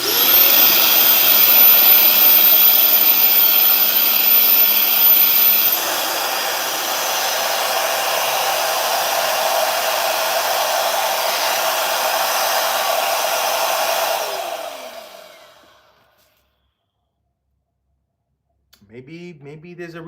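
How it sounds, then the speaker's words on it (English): A Bissell Revolution vacuum cleaner runs with a loud, steady roaring whine, eases to a slightly lower level partway through, then winds down and stops; a voice is briefly heard after it falls silent. "When you turn your vacuum on, you can feel the hot air coming out here."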